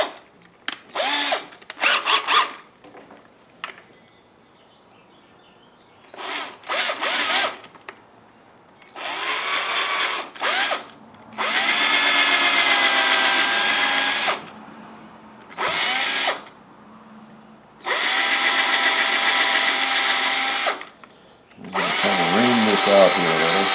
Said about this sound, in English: I'm going to put in a 1/8 inch drill